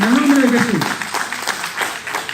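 A church congregation breaks into applause during a Spanish-language service, a steady crackle of many hands that starts under a voice and carries on alone at moderate loudness.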